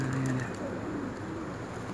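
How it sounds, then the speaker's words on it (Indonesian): Wild pigeons in a large flock coo steadily at close range, low rounded calls repeating over a constant outdoor background with no talking. "Ini burung merpati nih. Ini bukan orang pelihara nih,"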